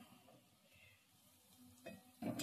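Drumstick (sajne data) cutlets frying in oil over a low gas flame: a quiet, soft sizzle with faint crackles, ending in a couple of louder scraping or stirring clatters.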